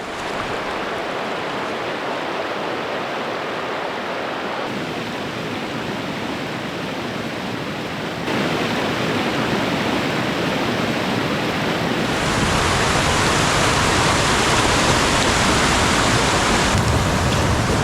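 Dense, steady rushing roar of a Nova Scotia spring river running high, constant broadband water noise that grows louder partway through, with no voices.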